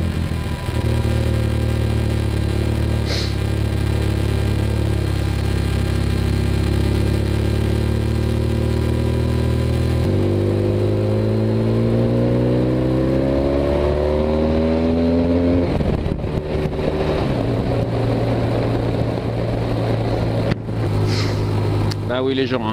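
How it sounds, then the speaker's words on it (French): A motorcycle engine drones steadily on the road, then the throttle opens and the pitch climbs sharply as it accelerates to overtake, before easing back to a cruising hum, loud and close throughout. "ça c'est l'avantage de la moto, un petit coup de gaz et hop ça passe"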